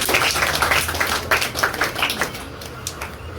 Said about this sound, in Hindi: एक बार जोरदार तालियां हो जाए सुप्रिया